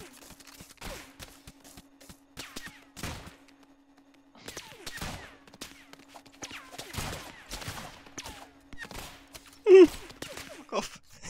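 Scattered bursts of heavy gunfire from big bullets in a modded multiplayer shooter game, sharp cracks and short volleys spread across the clip with gaps between, plus a brief louder hit near the end.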